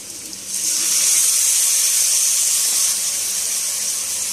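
Water poured into frying masala of dried red chilli in a pan sets off a loud, steady sizzling hiss that starts after a brief quieter moment and continues up close without speech.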